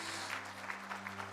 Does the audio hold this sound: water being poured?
no